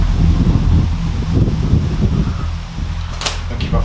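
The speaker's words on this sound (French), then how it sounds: "Là, le vent il s'est levé" Wind blows outdoors at night around an old retirement home, a steady low rushing roar with a faint gusting flutter throughout.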